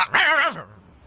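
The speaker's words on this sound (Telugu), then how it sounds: "కుక్క కుక్కని." A dog in a Telugu comedy film scene gives a single short, whiny yelp, loud and close, followed by quiet.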